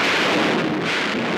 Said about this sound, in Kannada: ಗುಡುಗು ಮಿಂಚು, ಮಳೆ ಬರೋ ಕಾಣಿಸ್ತಾ ಇದೆ.